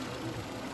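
A 2003 Honda Fit petrol engine idles at a used car market, a steady low rumble held close and unbroken, with no talk over it.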